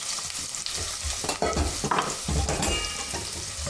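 Butternut squash pieces frying over a low flame in a saucepan, a steady close sizzle with stirring and a few scraping spoon strokes against the pan, no talk.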